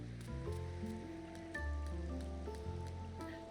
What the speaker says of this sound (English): Little waterfall going.